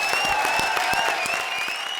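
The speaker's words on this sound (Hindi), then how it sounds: "जोरदार तालियां हो जाएं।" Loud audience applause on a comedy show's grand finale stage, steady crowd clapping with a sustained musical tone running underneath.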